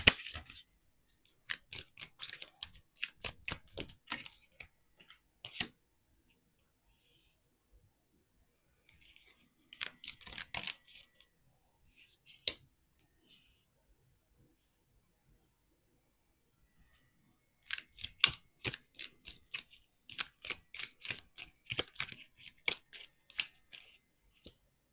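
Tarot cards shuffled in three bursts of quick, crisp riffling flicks, close and fairly clear, separated by near-silent pauses with a few isolated card snaps between them.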